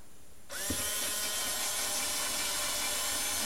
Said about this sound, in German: Ganz langsam bohrt er mir da rein.